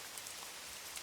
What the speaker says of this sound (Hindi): अगर इस भारी बारिश में वो बांध टूट गया